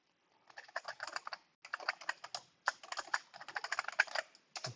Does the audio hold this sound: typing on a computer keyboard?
yes